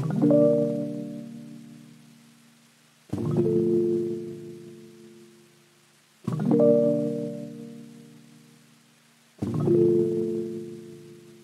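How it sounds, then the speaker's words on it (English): Rhodes electric piano loop pitched down seven semitones, four darker, lower chords repeating roughly every three seconds, each struck and fading gently, warm and muffled with no other sound. "So I pitched it down like 7 semitones"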